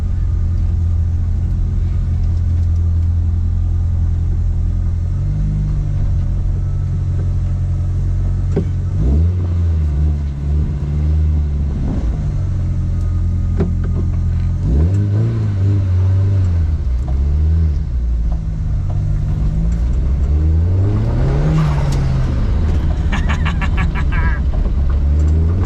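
A 1983 Mk1 Golf GTI with a swapped 1.8 20v turbo engine drives with almost no brakes, engine rising and falling through several loud revs and gear changes, close up, with people talking over it.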